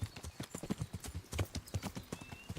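A horse's hooves beat in a quick, regular rhythm in Kingdom Come: Deliverance. The clear, close clip-clop of a trot or canter continues throughout at moderate loudness.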